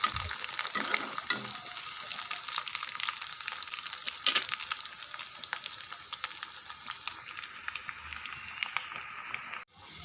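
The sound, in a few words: sizzling of tempered dal (lentils) in a pan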